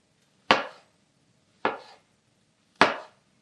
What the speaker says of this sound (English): So I guess I'm just slicing them